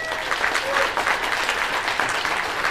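Audience applause on a cruise ship game show (Liars Club aboard Royal Caribbean's Grandeur of the Seas), a steady, fairly loud wash of clapping from a crowd that holds evenly for a few seconds.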